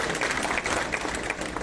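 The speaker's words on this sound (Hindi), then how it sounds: "ठाकुर ने जो जिस प्रकार से अपना सहयोग दिया, उनके लिए एक बार जोरदार ढंग से हम सबकी ओर से ताली होनी चाहिए" Applause from an outdoor crowd at the Saraj sports and cultural festival in Balichowki, Himachal Pradesh, a dense, steady patter of many hands clapping at moderate distance, filling the short moment.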